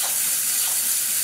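Water poured onto a heated rusty pulley gives off a steady, bright hiss of steam, a continuous spitting wash of sound held at an even level throughout.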